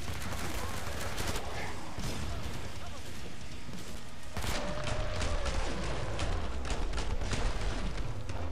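Gunfire in the video game Killing Floor 2, with repeated shots and heavy booming blasts over a dense, loud mix of combat noise, and people talking throughout.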